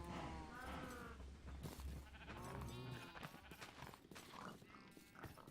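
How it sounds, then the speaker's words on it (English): Sheep bleat several times while eating grass in a farming video game soundscape, with steady low background noise throughout. "I hear the sheep just absolutely devouring the grass."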